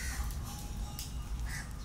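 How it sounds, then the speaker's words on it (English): Birds in a park out in green open nature give a few duck-like calls over a steady outdoor background, moderately near and without talk. "Just see the beautiful birds we have in the park"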